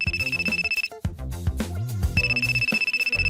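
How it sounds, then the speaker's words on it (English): A phone ringtone rings in loud, repeating melodic bursts, with a brief pause near the middle before the tune resumes, sounding close and alone without any talk. "at that moment, Lance's phone rang."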